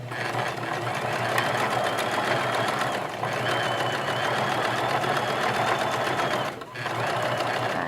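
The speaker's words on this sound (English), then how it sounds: "Get to the end, needle in, I'm going to pivot, and I'm going to sew it again." A sewing machine stitches a line on fabric, running steadily at a close, even hum with a brief pause and a needle pivot near the end before restarting.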